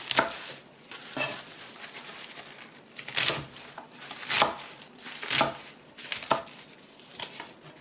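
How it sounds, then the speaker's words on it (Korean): A knife chops mustard greens on a board for kimchi, giving crisp, crunchy strokes close by, spaced about a second apart with rustling leaves between, and no talking. "갓을 썰겠습니다."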